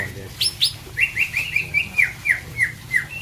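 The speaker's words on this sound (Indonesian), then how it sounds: "Terus kebetulan tempat ada banyak burung, sama ini dikasih burung." Several pet birds kept in a home yard chirp in a quick, steady run of bright tweets, close and clear over a low background hum.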